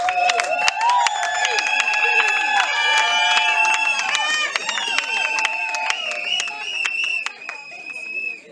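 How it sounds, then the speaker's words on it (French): Guests at a civil wedding ceremony in a municipal registry office break into sustained applause, dense clapping mixed with cheering voices that holds steady for several seconds before tapering slightly. "Tous les applaudissements s'il vous plaît."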